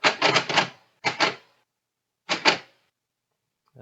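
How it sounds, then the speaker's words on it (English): A Braille typewriter embossing onto a card gives quick bursts of sharp mechanical clacks, a cluster of strikes, a short pair, then another pair after a pause, close and loud with no voices. "it stamps out the Braille on the card there"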